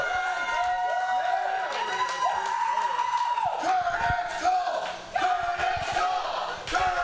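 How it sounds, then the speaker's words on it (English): A pro wrestling crowd roars in approval, a loud, continuous swell of cheering, whooping and chanting voices that fills the arena and keeps rising and falling without a break. "the crowd roaring with their approval, not letting him get the words out"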